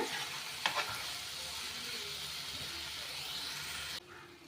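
Egg pieces are gently stirred into a pepper masala in a pan, giving a steady, soft sizzle and hiss with a couple of light spoon scrapes near the start. The sizzle drops away abruptly near the end.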